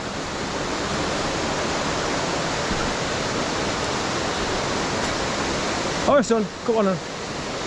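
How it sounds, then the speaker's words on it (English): Constant broadband roar of the Hareshaw Linn waterfall, a steady rushing wash heard from some distance, with a voice briefly speaking over it near the end. "you can hear the roar of the water"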